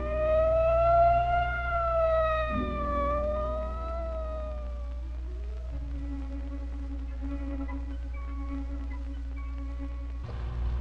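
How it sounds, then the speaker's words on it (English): A police car siren on a city street wails in long rising and falling tones, strong at first, then fading and wavering as it passes, with low background rumble. "A police car just went whistling by here north on Queen Anne Avenue."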